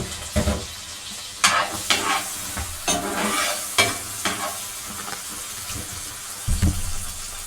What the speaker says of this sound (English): So I have it cooking in a round skillet over medium heat